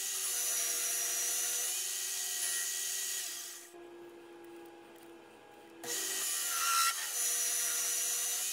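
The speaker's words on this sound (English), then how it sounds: "So in here, I'm going to be doing a sanding operation." Sanding a wooden flywheel pattern made for brass casting, a steady abrasive hiss and rubbing that runs loud throughout, briefly dropping to a quieter, smoother tone midway before resuming at full strength.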